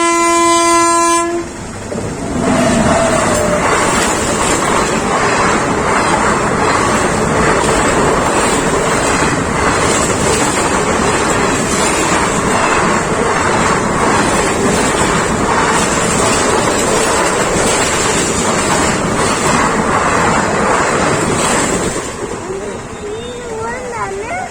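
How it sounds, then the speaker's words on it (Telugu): A train passes a railway level crossing, loud and close, with a sustained horn, rumbling wagons and clickety-clack of wheels over the rails, wind buffeting the microphone, fading as it goes by. "ఫ్రెండ్స్ ట్రైన్ వచ్చేస్తుంది ఫ్రెండ్స్"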